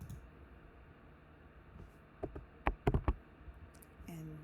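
A few sharp, close computer mouse clicks in a quick cluster over faint room hiss, then a brief pause, from someone right-clicking to copy a file.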